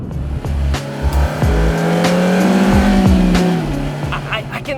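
A 2018 Suzuki Swift Sport hatchback corners hard, its engine droning loud and close with a steady pitch rise while the tires squeal continuously through the bend, with no talking.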